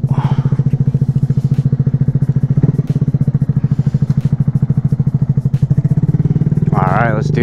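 A motorcycle engine idles while warming up on a cold day, a loud, close, even low thumping pulse with a few clanks and scrapes and a brief rev near the end.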